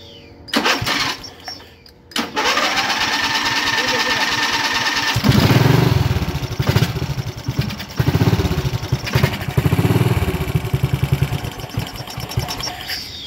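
A lawn mower that revs to high when faulty coughs, then catches and starts, and its engine roars loudly up close with uneven surging revs as people talk under it.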